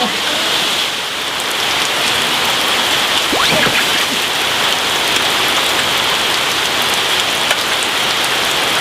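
Heavy rain pours down steadily and loudly, a dense, continuous hiss of drops hitting surfaces close by from start to finish.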